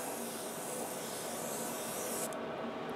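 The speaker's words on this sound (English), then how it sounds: "just spray horizontally across and then vertically across" Spray paint base coat hissing onto a wine glass in a steady continuous stream, close and fairly loud, as a light dusting applied in horizontal and vertical passes before cutting off near the end.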